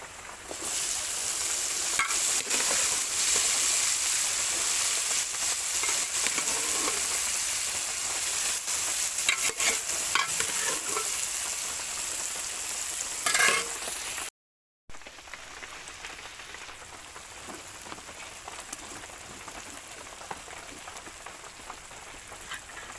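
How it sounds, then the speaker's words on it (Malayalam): Raw banana pieces frying and being stirred with green chilli and spices in a pan, a steady close sizzle with scraping stir sounds throughout, briefly cut off midway, no talk. "ഇതൊന്ന് നന്നായിട്ട് ഇങ്ങനെ ഇളക്കി കൊടുക്കുക ഒന്ന് നന്നായി ഒന്ന് മിക്സ് ആക്കുക"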